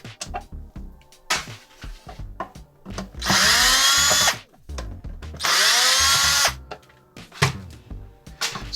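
A power drill drives new screws into an ESP RA-1 Custom 7-string guitar during a setup, with two sustained whirring runs rising in pitch as each screw tightens, framed by loud handling clicks and knocks close by.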